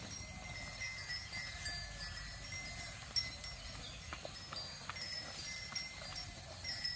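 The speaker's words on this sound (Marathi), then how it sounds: "सगळी गुरं एका बाजूला चरतायत." Cattle and a calf grazing in a field in Konkan, heard as faint outdoor ambience with soft rustling, scattered light knocks and occasional bell-like clinks from the herd, distant and quiet, no talking.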